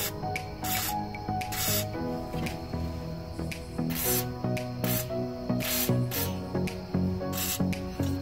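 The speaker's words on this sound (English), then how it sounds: "I'm going to spray some WD-40 on just to loosen it well, just to help penetrate and make it easier to take them off." Repeated short hissing bursts of WD-40 sprayed onto rusty rear brake bolts of a Fiat Barchetta, close and crisp, over a steady background hum.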